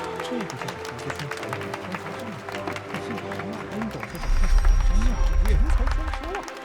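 Guests at a wedding ceremony break into applause and crowd noise to welcome the bride. The clapping swells strongly in the last couple of seconds after an announcer's voice is heard speaking.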